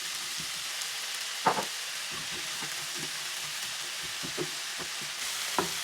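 Julienned carrot, mushrooms, onions and celery stir-frying for vegetable chow mein, a steady close sizzle with a patter of light stirring taps and a few louder utensil knocks.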